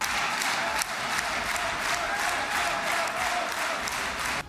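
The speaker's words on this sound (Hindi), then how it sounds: "तभी ट्रंप के समर्थन में बाकी सांसदों ने तालियां बजानी शुरू कर दी" Members of Israel's parliament clapping together in a large chamber, a steady broadband wash of applause with a faint crowd murmur, moderately distant, lasting throughout.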